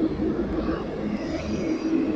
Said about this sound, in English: Noisy bus.